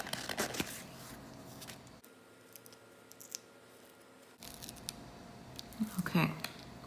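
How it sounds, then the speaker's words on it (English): Scissors snip a Cricut vinyl sheet into individual letter pieces, with several short crisp cuts and rustles of the handled vinyl, close up, separated by a quiet pause. "I'm going to cut these down into individual pieces"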